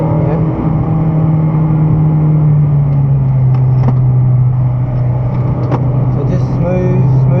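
A car engine accelerating on a race track at Broadford, a steady loud drone whose pitch climbs slowly while an instructor talks over it from inside the car.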